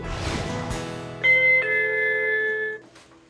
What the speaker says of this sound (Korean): 한밤중 울린 초인종 소리